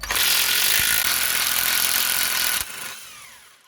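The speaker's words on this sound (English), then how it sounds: "just gonna undo this nut now" A nut on a Mitsubishi lower suspension control arm bolt is undone, a loud, dense mechanical ratcheting for about two and a half seconds that then drops and fades.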